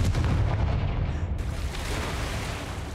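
Confringo blasting curse going off in Hogwarts Legacy, a loud, dense booming explosion with rumbling debris that fills the whole moment, then a sustained roar decaying slowly.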